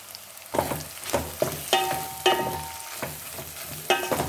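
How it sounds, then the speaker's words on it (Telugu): Brinjal and green peas curry being stir-fried in a pan, with a spoon scraping through it in repeated strokes about every half second over a low, steady sizzle, close and fairly loud. "బాగా కలుపుతూ వేయించుకోండి వంకాయలు కాస్త మగ్గి వేగిన తర్వాత"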